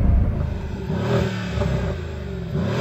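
A twin-turbo V8 in an SUV is revved up to a soft limiter around 4,500 rpm, giving a deep, loud rumbling burble heard close and alone for a few seconds.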